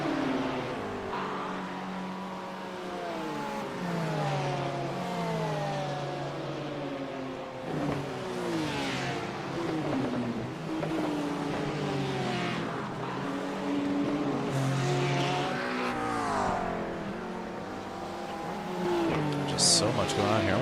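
Race car engines in a sim race at Bathurst, with a Porsche and a Ferrari among the GTD cars, whine and shift through rising and falling revs, with tire squeal, under steady commentary.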